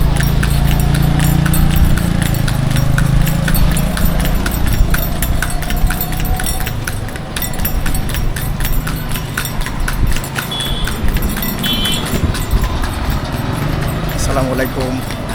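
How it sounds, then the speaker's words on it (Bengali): Horse cart on a city road in Bangladesh, with rapid rhythmic hoof clip-clops close by over engine and traffic rumble, and people talking at times. "হঠাৎ করে ঘোড়ার গাড়ি দেখা হয়ে গেল"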